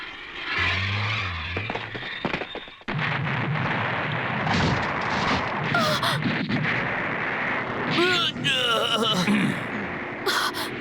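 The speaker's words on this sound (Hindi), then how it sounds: "इन्हें तो मिसाइल से उड़ाना पड़ेगा। चलो फायर करो। मिसाइल आ रही है।" A cartoon missile launch and blast from the Cyborg 009 animation: a sharp burst of firing gives way to a long roaring explosion with whistling streaks, loud and dense throughout.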